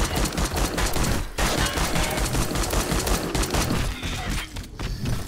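Light machine gun firing in the video game 7 Days to Die, dense rapid bursts of gunfire filling the whole stretch with brief gaps between volleys, loud and close.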